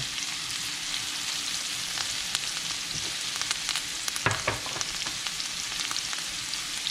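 Tomato, hot scotch bonnet pepper and thyme frying in a pan, giving a steady close sizzle with occasional stirring clatters and crackles.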